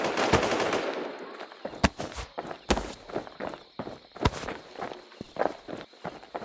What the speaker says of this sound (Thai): เอาอาก้าไปยิงอะเนาะ